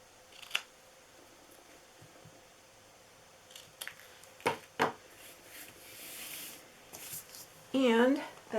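Paper being cut into small pieces with scissors for a Santa hat gift box: a few sharp, quiet snips and rustles spaced apart at close range, with someone talking softly between them.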